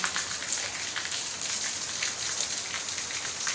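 Rain falling in a courtyard in Togo, a steady dense hiss of drops hitting surfaces, even and continuous with no voices.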